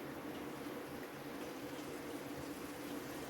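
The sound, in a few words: fish curry broth bubbling and boiling in a pan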